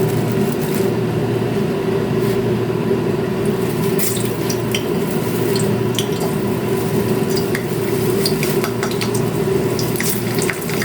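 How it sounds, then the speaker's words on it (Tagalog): Turon half-submerged in hot cooking oil fries with a steady, loud, continuous sizzle and crackle close up, with occasional clinks of a utensil against the pan. "kalahati lang yung sinubmerge ko sa mantika"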